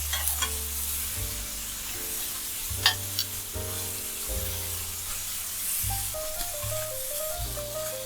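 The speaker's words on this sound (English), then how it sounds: "I just want to sear the edges slightly, just so that it has more of a beautiful color to it" Meat pieces sear in a hot skillet with a continuous sizzle and crackle, broken up by intermittent scraping and stirring and a few sharper pops, close and steady throughout.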